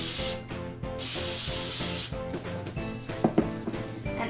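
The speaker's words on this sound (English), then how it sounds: "spray your baking dish and spray a spatula." Cooking spray hisses in short bursts onto a baking dish and a spatula, set under steady background music, with the louder spray bursts near the start.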